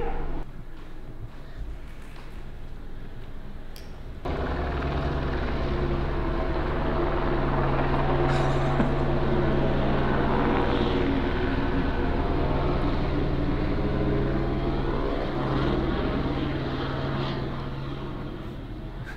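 A police helicopter circles low, roughly fifty feet above a house, its loud, steady rotor and engine roar swelling and holding close overhead before easing slightly, with no talk.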